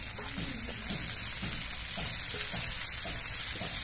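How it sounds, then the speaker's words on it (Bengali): Chopped onions hit hot oil already frying garlic and are stirred, giving a soft, continuous sizzle with faint crackles and stirring scrapes close by. "এবার নেড়ে চেড়ে পেঁয়াজগুলো ভেজে নিতে হবে।"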